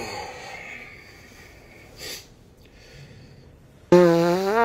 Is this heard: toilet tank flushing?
no